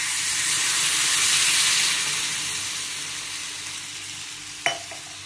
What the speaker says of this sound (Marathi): चांगलं भाजलं गेले, पाणी घालायचं.